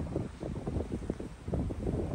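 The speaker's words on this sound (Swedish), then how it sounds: "Det är mulet, men det är varmt. Det blåser lite." Wind buffets the microphone on a ship's promenade deck on an overcast, warm day, a steady low rumbling whoosh with gusty swells throughout and no voices.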